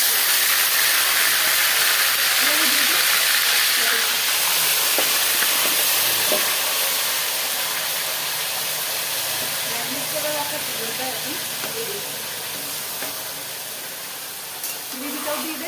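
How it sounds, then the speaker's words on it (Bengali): A pressure cooker boiling potatoes lets out a loud, continuous hiss of steam that holds steady and slowly eases off, with soft voices faintly under it. "এই যে প্রেশার কুকারে আলু সেদ্ধ বসিয়েছে"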